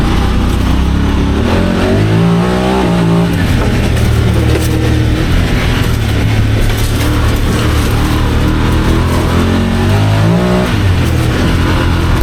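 A tuned Honda Pioneer 1000 side-by-side in low-range manual mode accelerating hard, with a loud, close engine revving and rising in pitch, then dropping as it shifts quickly through gears, continuous throughout.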